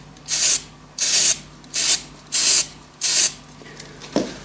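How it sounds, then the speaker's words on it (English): Short hissing bursts from an aerosol spray paint can used in metal finishing, five rhythmic sprays about half a second each, close and loud, with a faint click between them. "Just spray a bit out too before you actually put it on your material"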